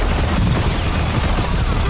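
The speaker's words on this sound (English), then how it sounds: "this glitch blueprint turns the gun into a Glock with a switch" Rapid automatic fire from a glitched blueprint Glock-style pistol with a switch in Call of Duty Warzone, a dense, continuous loud burst throughout with no pauses.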